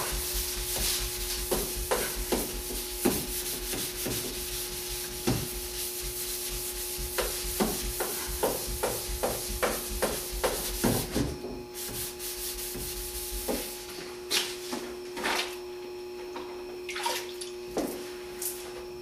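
Primer on a Fiat Spider body is wet sanded by hand in rapid back-and-forth strokes: a steady, close, gritty, watery rasping that goes on without pause and without any voices.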